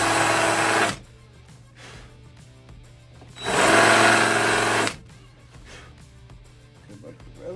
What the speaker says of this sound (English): And we're gonna countersink.